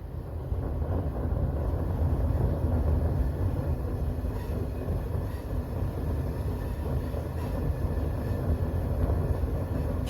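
A forge burner flame roaring steadily, a dense, broad low rumble that holds loud and unbroken throughout with no voices.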